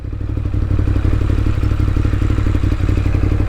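A 2018 Ducati Monster 821 motorcycle engine runs close and loud, a rhythmic pulsing throb with steady mechanical clatter throughout.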